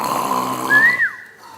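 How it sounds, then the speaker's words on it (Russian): Snoring from a sleeping princess in a comic fairy-tale sketch, a steady rumbling breath that rises into a whistling upward glide and then trails off, loud and close with no talk over it. "Да точно она храпит."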